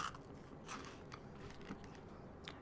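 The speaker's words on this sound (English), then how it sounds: "take another bite of my Rice Krispie" Someone chews a bite of a Rice Krispie treat close to a foam-covered microphone, soft crunchy bites repeating every half second or so, quiet and alone.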